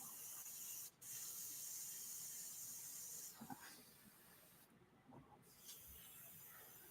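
A spray gun hisses steadily at close range as lacquer runs through it, with a couple of short breaks in the flow and no talking.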